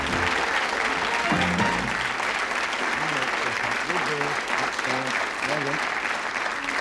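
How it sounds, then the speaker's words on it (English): Steady applause from a large studio audience on the darts game show Bullseye in 1985 fills the whole stretch, with a voice speaking over the clapping now and then. "Give them a round of applause, boys and girls."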